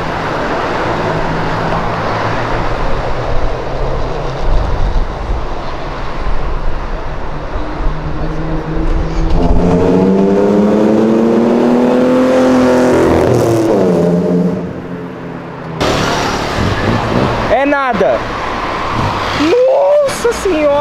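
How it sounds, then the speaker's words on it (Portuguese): A McLaren approaches with a rising engine note, then revs hard and accelerates past loudly, followed by sharp revving bursts while people talk excitedly. "Olha o carro que tá vindo."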